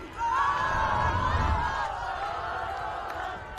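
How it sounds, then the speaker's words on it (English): A college women's ultimate frisbee team shouts a cheer together at a championship game, a sustained chorus of raised voices heard from a distance over crowd noise. "Hey, I love that cheer, by the way."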